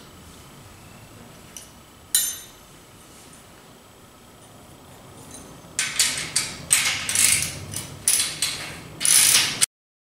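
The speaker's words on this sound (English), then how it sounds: "Now that all the bolts have been inserted, tighten all the bolts using the two" Two 17mm wrenches tighten bolts on the frame of a Corten steel planter on casters. A few scattered metallic clicks come first, then a run of close ratcheting clicks and grinding turns before everything stops abruptly.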